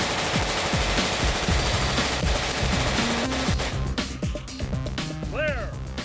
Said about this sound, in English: The Stoner is no trouble for a Navy SEAL to fire from the shoulder all day long.